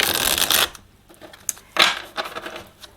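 Tarot cards being shuffled for a reading, two bursts of crisp riffling close by, the first longer, the second shorter, separated by a few soft taps.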